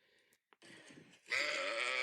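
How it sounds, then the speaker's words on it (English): A sheep bleats in a few wavering calls, ending with a louder, drawn-out bleat, close by and otherwise quiet. "Sheep noises."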